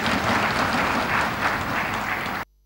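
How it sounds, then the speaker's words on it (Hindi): Members of the Nepali parliament applaud Indian Prime Minister Narendra Modi's speech, a steady, dense roar of clapping from many hands that fills the hall and then cuts off abruptly. "भारतीय प्रधानमन्त्री नरेन्द्र मोदीले नेपालीमा भाषण गरिरहँदा सभासदहरू ताली बजाइरहेका थिए"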